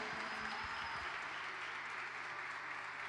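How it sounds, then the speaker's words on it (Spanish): An audience at a women's music gathering claps for a female performer, a steady wash of applause heard from a distance for a few seconds without any break. "Un fuerte aplauso para ella"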